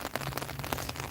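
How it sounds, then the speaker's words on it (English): Heavy rain falls outdoors at a freight depot, a dense, steady hiss of drops pattering on surfaces with scattered louder splats, close and continuous throughout. "it's raining harder"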